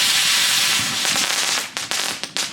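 A Fourth of July firework popper and ground spinner set off together, a loud hissing, spraying crackle from close range that ends in a few sharp pops, with no speech over it.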